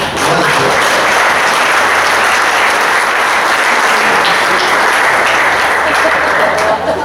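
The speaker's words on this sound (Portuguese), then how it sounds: "Vamos aplaudir esse irmão" Church congregation applauding a brother, loud dense clapping that holds steady for several seconds with no pause.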